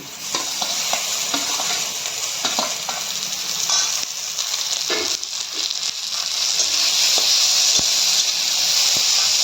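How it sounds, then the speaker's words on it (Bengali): Chopped tomatoes hit a pan of browned onions for a jackfruit curry, giving a loud, steady sizzle and hiss with scattered stirring scrapes, no voices. "এখন আমরা টমেটো কুচিগুলি দিয়ে দিচ্ছি।"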